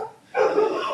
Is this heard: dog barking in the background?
yes